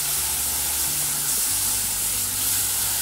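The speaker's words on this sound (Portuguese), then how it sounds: "nós vamos colocar o leite aos pouquinhos, tá? O leite está gelado mesmo" Cold milk poured a little at a time into a hot pan for a cheese cream sauce, giving a steady, close sizzling hiss with soft stirring underneath and no talk.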